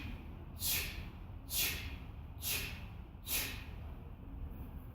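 Four short, sharp breaths pushed out during a core exercise, evenly spaced about a second apart, close and clear over a quiet background, with no talking.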